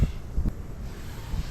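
Gusty wind buffets the microphone outdoors beside a campfire, low rumbling bursts swelling and easing over a few seconds, with no voices heard.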